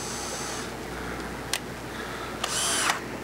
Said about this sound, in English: Take a drill with your drill bit in it, and line that screw up.